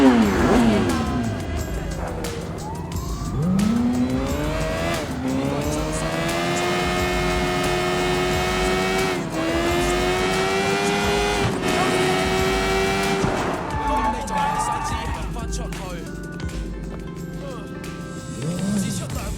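A motorcycle in the game Sleeping Dogs revs and accelerates, its engine note sweeping up and down through gears across the whole stretch, with a person talking over it.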